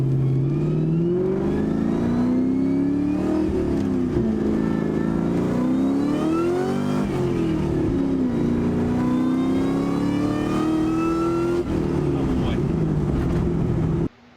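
A Ford Mustang Cobra engine runs under boost, a sustained loud drone that rises and falls in pitch through repeated revs, close up, ending abruptly.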